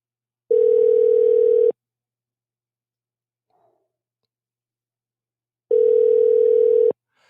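A telephone line tone sounds in two long, steady buzzing bursts, each about a second, separated by several seconds of silence while the call waits to be answered.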